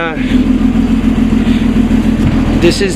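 A 1980s Clark airport tug engine idles steadily after a cold start, a loud, close, even mechanical rumble with a constant low throb throughout, joined briefly by some other noise near the end.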